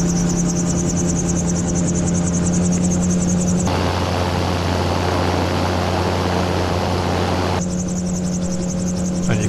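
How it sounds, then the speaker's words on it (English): A gyrocopter holds a hover in a breeze over the Cheshire countryside near Beeston Castle, its engine and rotor droning loud and steady throughout, with the pitch of the hum shifting in the middle stretch. "One of the many things I love about the gyrocopter is its ability to hover with a half-decent wind"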